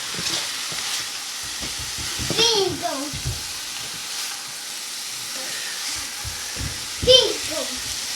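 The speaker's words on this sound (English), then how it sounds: "So that garlic's had a chance to kind of toast a little bit in the oil" Garlic fries in oil in a pan with a steady soft sizzle and hiss, broken by scraping stir strokes, while a voice chatters intermittently in the background.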